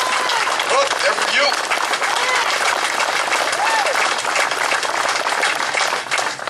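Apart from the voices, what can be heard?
audience applause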